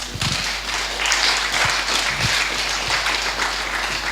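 A church congregation applauds in acclaim of the Lord, sustained dense clapping from many hands with a few low thumps, steady and fairly loud.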